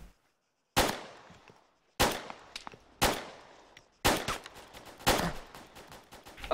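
Video game shootout gunfire: five sharp, loud single shots roughly a second apart, each cracking out of near silence and trailing off briefly, the last few coming slightly closer together.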